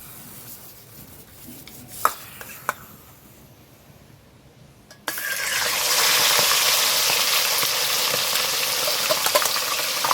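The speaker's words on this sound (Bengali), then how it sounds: "আমি এখানে তেল বসিয়ে দিয়েছি কড়াইয়ে, তেল আমার গরম হয়ে গেছে। আমি এই চিকেনটাকে ভেজে নেব।" Chicken hits hot oil in a kadai: a quiet stretch with a few small clicks gives way to a sudden loud, steady frying sizzle that holds to the end.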